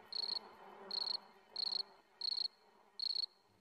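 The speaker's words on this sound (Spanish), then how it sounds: "el grillo comenzó a cantar nuevamente sus melodías de amor" A cricket chirps in five short, evenly spaced bursts, each a bright trilling pulse, fairly close and alone against a quiet background.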